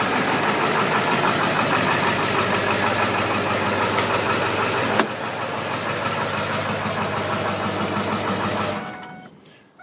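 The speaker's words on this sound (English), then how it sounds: "please be advised that there's no muffler or catalytic converter on this exhaust" A 1999 Ford F250 Super Duty with the 7.3-liter Powerstroke diesel idles with no muffler or catalytic converter, giving a loud, steady, clattering rumble that runs continuously before cutting off near the end.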